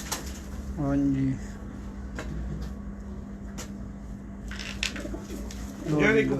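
Two short pigeon coos, rolling and throaty, sound close by from birds kept by a fancier, separated by a quiet stretch with a steady hum and a few light knocks.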